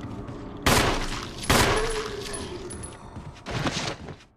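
Gunfire in the Resident Evil video game: three loud, sharp bursts spaced about a second apart, each followed by a decaying tail, with a faint ringing tone and quiet game ambience between shots.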